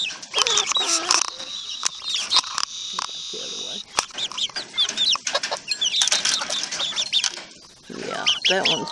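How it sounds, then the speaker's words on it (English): A backyard flock of mixed-breed chickens, a rooster and egg-laying hens, clucking and chirping close by, busy and overlapping with brief bursts of louder calls throughout. "Hi, chickens. These are my rooster and my egg layers."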